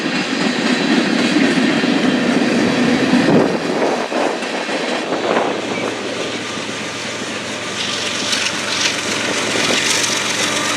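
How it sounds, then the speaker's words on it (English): A freight train with a trio of seafoam green tank cars carrying pressurized liquid or gas rolls past at Fostoria's Iron Triangle, making a loud, steady rumble and wheel clatter throughout. "second surprise on this train was a trio of seafoam green colored tank cars"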